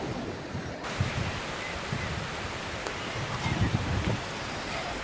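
Sea waves wash steadily onto a beach in cool, rainy weather, a continuous broad roar of surf mixed with buffeting wind noise across the microphone.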